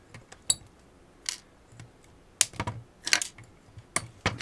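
Cutters snip battery wires during a Dyson V8 cordless vacuum teardown, giving a scattered series of sharp, close clicks and snaps with quiet gaps between them.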